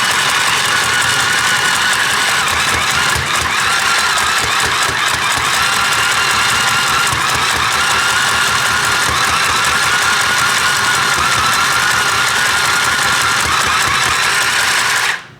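A Singer Stitch Sew Quick 2 handheld sewing machine stitching fabric for a rag doll, a loud, steady, buzzing motor whir with rapid needle chatter close up, running continuously until it stops abruptly at the end.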